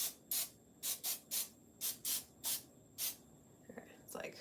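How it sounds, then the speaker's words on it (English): Non-stick cooking spray hisses from an aerosol can over a sink in a series of short, sharp bursts, about eight close spritzes in an uneven rhythm, followed by faint handling noises. "I'm also gonna spray this just over the sink really quick with the non-stick cooking spray"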